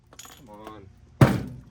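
Glass breaks with a sudden sharp crash and brief shattering tail while a Hamilton Beach microwave is being smashed, following a short stretch of talk and voice.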